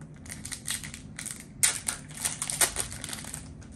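Foil trading card hobby packs ripped open by hand at a card shop, with crinkly tearing and crumpling bursts, a sharper rip partway through, close and fairly quiet.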